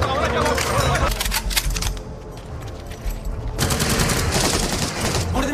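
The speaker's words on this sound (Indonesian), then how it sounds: "Aksi baku tembak tak lagi bisa dihindarkan." Film gunfight between soldiers and terrorists, a dense, loud rattle of automatic fire that briefly dips before resuming, with a narrator talking over it.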